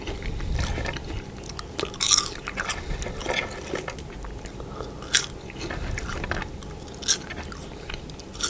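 Close-up crunchy chewing of fried giant water bug insects full of eggs, steady wet mastication with sharp crisp crunches popping out at irregular intervals.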